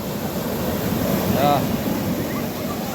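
Sea waves wash onto a beach in a continuous surf roar with wind rushing across the microphone, loud and steady throughout, with a brief tonal chirp in the middle.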